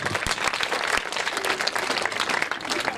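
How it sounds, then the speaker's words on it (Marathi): A crowd at a farewell ceremony claps steadily to welcome parents, dense close applause with a faint murmur of voices beneath. "पालक लोकांचं पहिल्यांदा टाळ्या वाजवून स्वागत करा"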